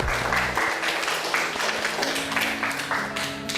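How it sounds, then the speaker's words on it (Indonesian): Classroom applause for a student group: a steady, dense patter of many hands clapping close by, sustained for a few seconds at fairly even loudness. "Kita beri aplaus untuk kelompok 4."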